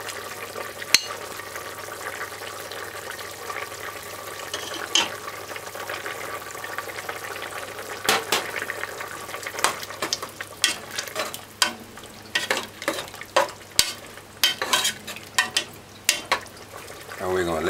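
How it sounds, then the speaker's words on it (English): Peppered steak with ketchup bubbling and stirring in a pot, a low steady simmer broken by scraping spoon strokes that grow busier and louder toward the end, close by. "we're going to let this stew for another 5 minutes"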